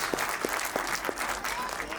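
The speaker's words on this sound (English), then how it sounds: "Please give them also a big round of applause." Audience applause at a school annual day cultural program, fairly faint and distant, an even spread of clapping from a crowd with a few sharper individual claps standing out.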